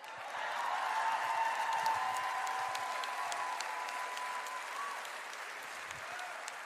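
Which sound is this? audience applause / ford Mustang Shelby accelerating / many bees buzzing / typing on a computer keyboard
audience applause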